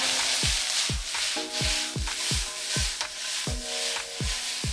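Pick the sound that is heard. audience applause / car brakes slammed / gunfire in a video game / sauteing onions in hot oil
sauteing onions in hot oil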